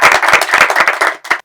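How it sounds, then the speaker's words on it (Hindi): Children and an audience at a school Holi celebration clap together in a burst of rapid, loud applause lasting about a second and a half, with a short pause and one last flurry of claps before it cuts off. "इसके लिए हम जोरदार एक बार तालियां बजानी चाहिए ना सबके लिए।"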